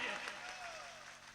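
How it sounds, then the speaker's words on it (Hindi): Audience applause at a mushaira poetry gathering in Dhaka, a brief burst of clapping from the crowd heard close and fairly steady, fading slightly toward the end. "एक बार तालियां बजा दीजिए"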